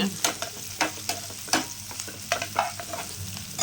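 Onions sautéing in a pan for a quail pepper fry, stirred repeatedly; a steady low sizzle runs under a series of sharp scraping stirs about every half second, close and fairly quiet, with no talking.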